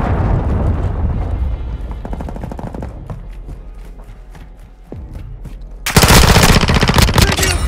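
Rapid machine gun bursts rattle through a Call of Duty: Modern Warfare II battle, loud and close, with rumbling explosions underneath and a sudden heavy blast of fire near the end.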